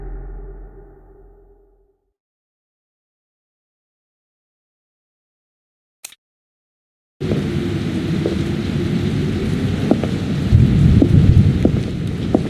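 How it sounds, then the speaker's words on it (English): Night rain and thunderstorm in the Identity V video game: a low rumbling tail fades into near silence, a brief crack breaks the quiet, then steady heavy rain returns with rolling thunder building underneath. "The storm woke me, and I couldn't sleep"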